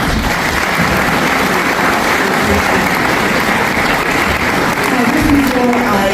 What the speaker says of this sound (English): So you can give him a round of applause as well.